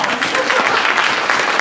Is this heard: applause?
yes